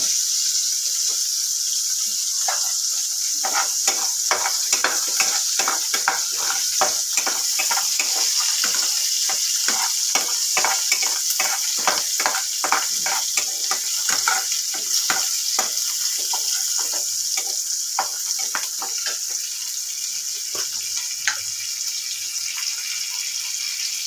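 Whole cumin seeds sputter and crackle in hot oil alongside green chillies, giving a dense run of sharp pops over a steady bright sizzle, loud and close, slowly thinning toward the end.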